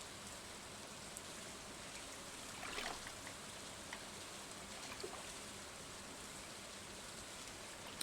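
Steady rain falls in the farming game Stardew Valley, a soft continuous hiss of drops with no breaks, faint and even, with a few slightly louder patters near the middle and no voices.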